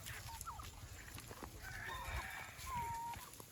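A black country (naati) rooster crows faintly from a distance, with soft clucking from other fowl on a farm. Low rustling background noise runs underneath.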